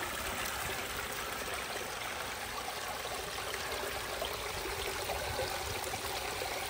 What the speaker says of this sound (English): Love that water coming in right on that little notch